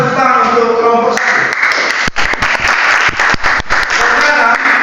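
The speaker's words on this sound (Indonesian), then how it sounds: "silakan tepuk tangan untuk kelompok 1" Classroom applause for a student group in a mathematics teaching session, a dense burst of many hands clapping that starts about a second in and continues loudly and steadily to the end, following a voice at the start.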